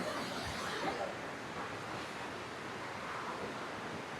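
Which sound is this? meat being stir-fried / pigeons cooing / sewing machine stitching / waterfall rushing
waterfall rushing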